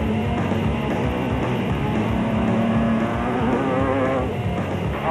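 A Nissan rally car at full speed on the final lap of the Limpopo 400 in 2005, its engine a loud, continuous, close roar with shifting pitch as it races along the road.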